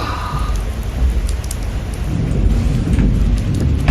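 Steady rain hisses on surfaces during a thunderstorm as low thunder rumbles underneath and swells toward the end, close and continuous with no talk.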